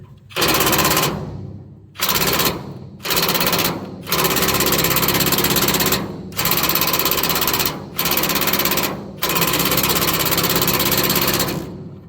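Pneumatic impact gun turned down low working on the nut of a car trailer leaf spring bolt, loud close rattling hammer bursts in about eight runs of varying length separated by short pauses.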